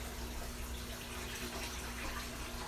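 Purified RO water pouring into a saltwater aquarium tank, a steady splashing rush of running water close by without pause.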